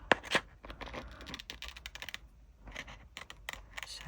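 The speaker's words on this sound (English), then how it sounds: "So now I can cut out my DTF sticker there." Scissors cutting out a DTF sticker along a printed line: a quiet, close run of irregular snips and paper rustles, with sharp clicks early on and no talk.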